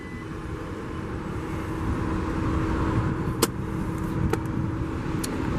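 A power-folding third-row seat in a 2017 Audi Q7 runs its motor with a steady low electric hum that builds slightly. A few soft clicks and mechanical taps near the end come close by, and no one speaks.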